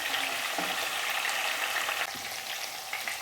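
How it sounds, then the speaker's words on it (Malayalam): Chicken pieces shallow-frying in hot oil for a fried chicken biryani give off a loud, steady sizzle and crackle that runs unbroken throughout, with no voices. "എല്ലാ വശവും ഒന്ന് മൊരിഞ്ഞ് വരുന്നത് പോലെ തിരിച്ചും മറിച്ച് വിട്ട് നമുക്കിത് മൊരിച്ചെടുത്ത് വയ്ക്കാം"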